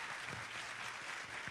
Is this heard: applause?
yes